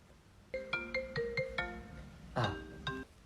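A phone ringtone for an incoming call plays a bright, repeating electronic melody of short tones, loud and close, pausing briefly before another burst, with no talking.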